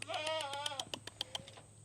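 Young goat kid on a farm bleating in one wavering, drawn-out cry, then a series of short, rapid taps and clicks, fairly close and faint with no talking.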